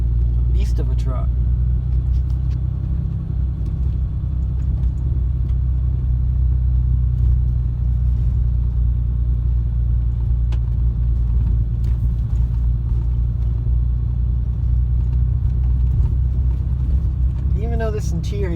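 A 2015 RAM 2500 with a Cummins diesel engine idles with a deep, steady low rumble from the exhaust, close and continuous throughout, with a voice heard briefly over it.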